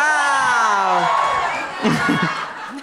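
Live comedy show crowd in Montréal cheers and whoops, a loud continuous hubbub of voices swelling near the end, with a performer's voice ringing out over it at the start.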